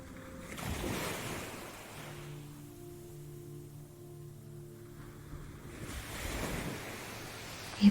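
Gentle waves wash onto a beach at shallow water's edge, soft rolling surges swelling and receding at a slow rhythm, faint and calm with a low steady hum in the lulls.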